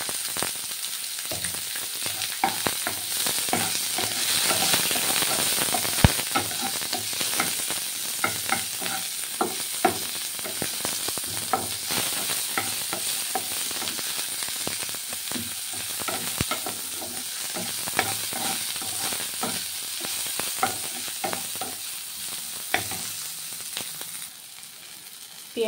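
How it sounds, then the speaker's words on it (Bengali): Onion and chili frying in oil with black cumin, in the same oil previously used to fry hilsa fish; a continuous crackling sizzle with frequent stirring clatters, close and steady, without speech. "এবারে পেঁয়াজ লঙ্কা ভেজে নিই।"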